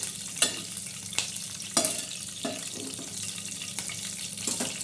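Hot oil with curry leaves and cumin sizzles and crackles steadily close by, with a few sharp clinks of a spoon stirring the pan.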